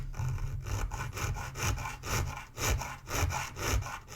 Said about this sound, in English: I have to file away about, what would you say, 1 millimeter maximum.